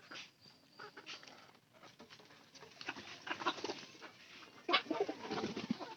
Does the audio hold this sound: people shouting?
no